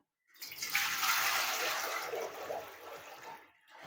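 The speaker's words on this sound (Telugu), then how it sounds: "దానికి కావాల్సిన వాటర్ వేస్తున్నాను." Water pours into a pot for chicken dum biryani, two to three litres for a kilo of rice, as one continuous rushing gush of about three seconds that slowly tapers off.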